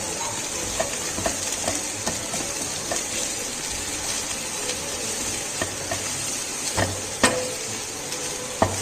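Corn frying in a pan while being stirred, a continuous close sizzle broken by scraping and clattering spoon strokes, with a couple of sharper knocks near the end.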